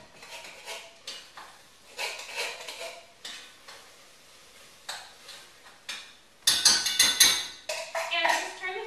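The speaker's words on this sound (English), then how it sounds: "Now we're just going to add our can of pumpkin in here." Canned pumpkin goes into a pan of cooking onions, with spoon scrapes, clinks against metal and scattered taps, then a louder burst of clattering and a low sizzle near the end, close and intermittent.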